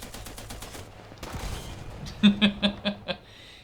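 A quick string of about five close, sharp machine-gun shots in War Thunder rings out in a short burst near the end, after a quieter stretch of game sounds.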